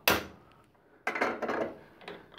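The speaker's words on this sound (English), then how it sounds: "so I've undone the draw bolt, and we'll just give that a tap" A sharp metallic tap on a milling machine's draw bolt rings out, followed a second later by a short cluster of lighter knocks on the metal machinery, close and fairly quiet.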